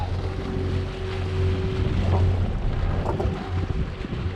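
A sailboat motoring under its diesel engine on the open ocean between Bermuda and the Azores, giving a steady low engine drone with wind and water rushing around it, continuous and fairly loud with no talk.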